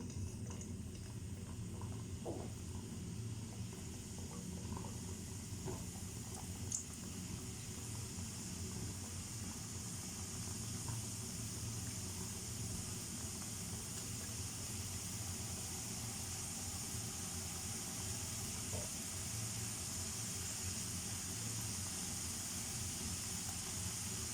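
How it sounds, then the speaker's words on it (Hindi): Namak paray dough pieces fry in hot oil, giving a steady, even sizzling hiss that holds at the same level throughout, quiet and continuous, with no voices. "अब हम ऑयल गर्म है उसमें ये डालते हैं और नमक पारे तलते हैं।"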